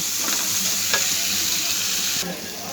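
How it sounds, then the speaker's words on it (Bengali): Chopped garlic and onion with a little turmeric sizzle steadily in a pan for a taro stolon curry while being stirred, a close, constant frying hiss with soft scraping, no voices. "রসুন কুচি, পেঁয়াজ কুচি, এগুলো দিয়ে আমি ভালো করে এটা নেড়ে চেড়ে নেব।"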